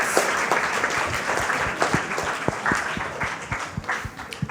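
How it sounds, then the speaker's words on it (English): An indoor audience at a quiz semi-final claps for several seconds, with loud, uneven individual claps close by that thin out toward the end. "No claps, only claps for Ravindra Kelekar"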